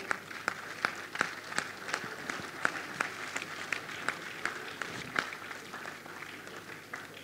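Elders at a Nigeria Computer Society annual conference in Ibadan receive sustained applause from a seated audience, with sharp, distinct claps standing out over a steady wash of hand-clapping throughout.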